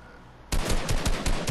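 Rapid automatic gunfire from a long-range weapon in the video game Fortnite bursts in suddenly after a quiet moment, with loud repeated shots continuing to the end.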